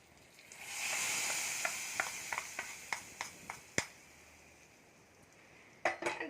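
Chilli-powder tempering poured into a pot of prawn curry gives a sustained hot-oil sizzle, then a string of sharp crackles and pops that fade to quiet before a final burst of spitting.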